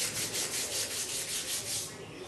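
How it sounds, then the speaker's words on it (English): A toothbrush scrubs a transmission coated in wheel cleaner, a close, steady bristly rubbing in rapid back-and-forth strokes with no voices. "toothbrushes to scrub with."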